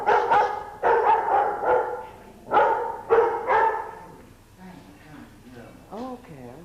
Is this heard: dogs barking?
yes